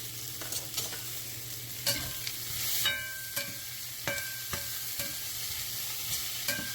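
Thinly sliced potatoes stirred in a 12-inch stainless steel skillet, a soft sizzle underneath a series of sharp metallic scrapes and clinks at irregular intervals, close and fairly quiet.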